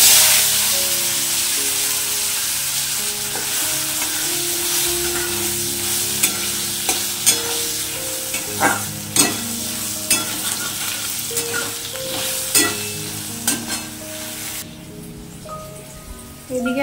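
Potatoes fry with a bright, steady sizzle in hot oil seasoned with a little turmeric, while a utensil taps and scrapes the pan in irregular clicks throughout, no voices heard.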